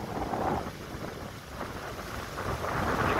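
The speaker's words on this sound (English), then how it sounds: "You can see the wave action here." Big ocean waves breaking on the shore at Cattlewash, Barbados, under a small craft warning, form a steady loud wash of surf mixed with heavy wind buffeting the microphone, with no voices.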